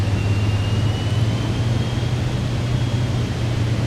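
A Cirrus Vision Jet G2 cruises in flight in Microsoft Flight Simulator 2024, heard as a steady, even engine drone with a low hum and a faint high whine, constant throughout.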